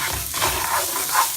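Chopped garlic frying in a pan for Mexican rice gives a steady, close sizzle with soft stirring scrapes rising and falling, and no talking.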